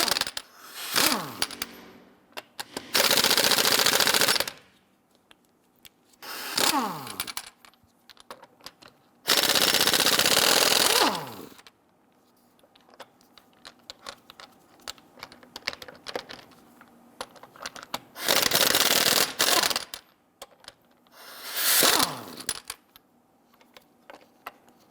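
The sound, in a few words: lug nuts loosened and removed with a 22mm socket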